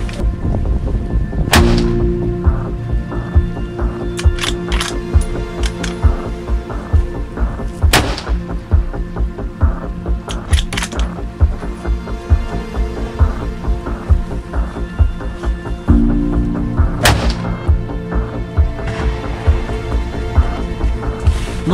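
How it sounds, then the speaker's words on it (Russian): Carbine shots on an outdoor shooting range with a box magazine: a few sharp, loud reports spaced several seconds apart, each ringing out with echo, and no talking. "Но три выстрела, я отсюда вижу прицел"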